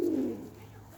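A pigeon gives a single soft, low coo close by, fading after a moment.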